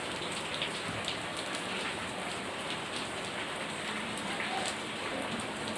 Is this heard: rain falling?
yes